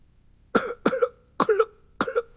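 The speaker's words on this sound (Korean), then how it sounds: "그 방정맞은 기침소리 때문에 글의 흐름이 다 끊어지지 않느냐?" Four harsh, separate coughs ring out a fraction of a second apart, close and fairly loud against near silence.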